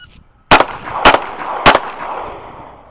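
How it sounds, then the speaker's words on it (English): Three sharp, loud pistol shots from a Smith & Wesson Bodyguard .380 and a Ruger LCP II crack about half a second apart, each leaving a short echo that fades quickly. "for the Smith & Wesson, we'll fire 1 shot into this box on the left"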